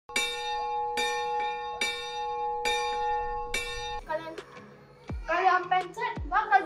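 A bell sound effect for a subscribe button, a bright repeated chime struck five times in a steady rhythm, followed by lively voices talking and laughing close by.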